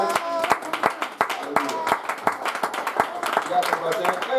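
Church congregation clapping and acclaiming the Lord during a worship service: sharp rhythmic hand claps over steady voices singing and calling out, lively and continuous throughout.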